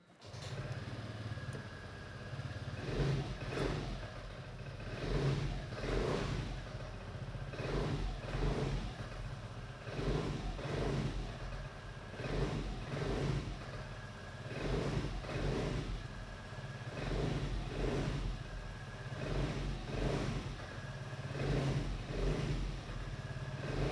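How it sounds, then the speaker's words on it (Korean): A 2021 Vespa GTS125 scooter on its stock muffler revs again and again in a regular rhythm, each quiet blip rising from a low idle burble, soft and close with no voices. "순정 머플러의 배기 사운드 한번 들어보고요."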